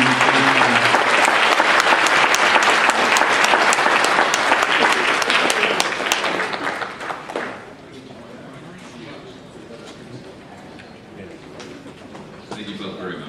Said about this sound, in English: Let's give a round of applause for these two gentlemen